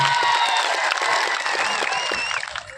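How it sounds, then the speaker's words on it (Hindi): A huge crowd at a political rally at Mala Katara ground in Dungarpur applauds and cheers steadily throughout, a dense wash of clapping with scattered whistles and shouts. "एक बार जोरदार आपके लिए तालियां बजा दी जाए"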